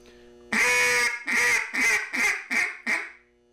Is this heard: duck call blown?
yes